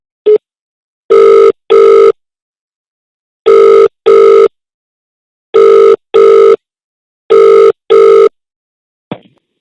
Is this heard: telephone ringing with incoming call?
yes